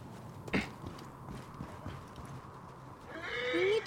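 A horse whinnies loudly in the video game Assassin's Creed Origins, with a few hoof clops before it, over a faint background ambience.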